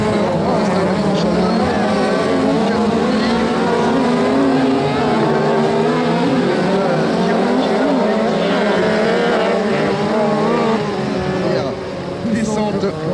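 Sprint car race engines roar at full power on a circuit at Les Cresnays, a continuous loud, dense drone with shifting pitch as cars descend the track, while a commentator talks over it throughout.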